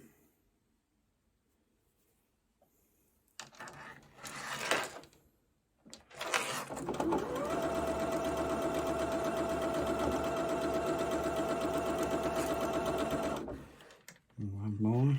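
A sewing machine stitches jelly roll quilt fabric, running steadily for several seconds after a few short starts, with a voice talking before and after the run.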